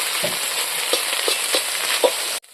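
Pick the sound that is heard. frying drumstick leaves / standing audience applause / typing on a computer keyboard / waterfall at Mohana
frying drumstick leaves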